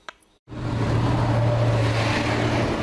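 Busy Delhi road traffic heard from close by, a steady loud engine drone with a low hum running throughout after a brief near-silent moment at the start.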